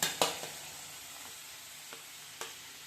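Masala paste being roasted and stirred in a pan while making mushroom bhaji, with a low steady sizzle, several sharp spoon scrapes and clinks against the pan, and short bursts of stirring.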